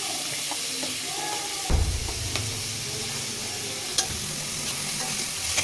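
Chopped onion frying with cinnamon and bay leaves for coriander chicken, with a steady close sizzle and occasional scrape and clack of stirring.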